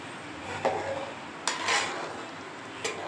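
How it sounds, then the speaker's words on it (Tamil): A spoon stirs brinjal fish curry in a metal pot, giving three sharp clinks against the side over a steady low background hiss, with no voices. "நல்லா மிக்ஸ் பண்ணிக்கலாம்."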